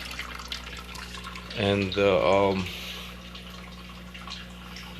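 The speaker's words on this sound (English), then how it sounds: "I moved the filter down to this bucket, and then now it's hopefully gonna siphon itself." Aquarium water drains through a siphon hose into a bucket with a low, steady trickling wash, while a person speaks briefly partway through.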